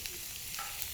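Pen shell clams sizzle on a grill at a winter campsite, a steady dense hiss of frying that fills the moment without any talk.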